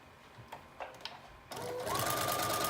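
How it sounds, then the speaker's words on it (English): A sewing machine runs a long, loose basting stitch along a 5/8 inch seam on a mermaid prom dress, kicking in after a few soft clicks and then whirring loudly and steadily to the end. "we're gonna do a long loose stitch down this side"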